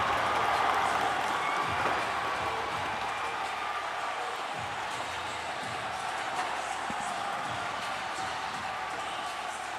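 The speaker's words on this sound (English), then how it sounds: "Listen to that crowd." A football stadium crowd at a Singapore Premier League match between Lion City Sailors and Hougang United roars after a goal, a broad, loud, sustained din with cheering and clapping woven through it.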